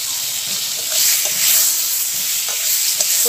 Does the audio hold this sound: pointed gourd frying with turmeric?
yes